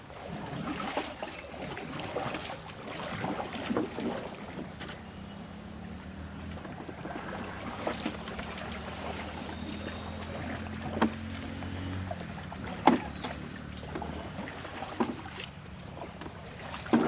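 A small fishing boat glides across Harohalli lake, a soft, low wash of water against the hull with occasional light splashes and knocks, quiet and continuous with no talk.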